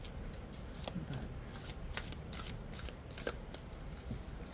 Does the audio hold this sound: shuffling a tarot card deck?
yes